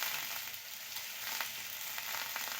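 Eggplant pieces frying in hot oil in a pan, a steady broadband sizzle with occasional crackles, close and continuous with no talking.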